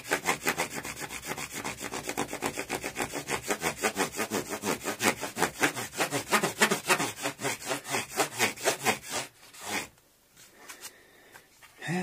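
8000-grit abrasive rubs back and forth on the finish of a Burny Les Paul copy guitar, a close, rhythmic scraping that goes on steadily for about ten seconds and then stops, leaving near silence.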